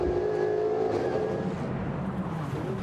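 A McLaren 570 and a Mercedes race cars roar down a straightaway in a 2022 Honda Indy Toronto race, a loud sustained engine drone with a falling pitch as they pass.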